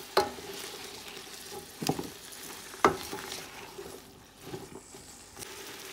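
Vegetables for chow mein sizzle softly in a pan while being stirred, with a few sharp utensil clicks and scrapes against the pan over a steady low frying hiss.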